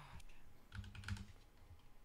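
Rapid clicking of keys on a computer keyboard while typing a word guess, a brief cluster of taps rising and falling over about two seconds, close and moderately quiet.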